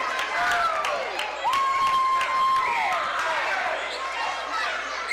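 College men's basketball crowd at Pruitt Hall cheering and clapping in a gym, with sneaker squeaks on the court and a commentator talking over the noise.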